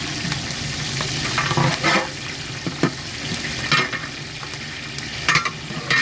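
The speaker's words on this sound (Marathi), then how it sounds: "अशा प्रकारे फोडणीचा तडका दिला जातो" Spices and green chillies crackle and sizzle in hot oil for tempering, a steady frying hiss broken by sharp pops and the occasional scrape of stirring.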